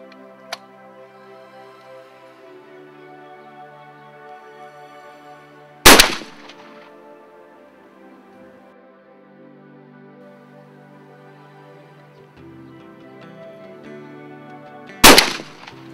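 A half-choke shotgun loaded with number 6 lead and steel shot, 32-gram cartridges, fires two loud single shots about nine seconds apart at an outdoor test range, each a sharp blast with a short decay over a steady background hum.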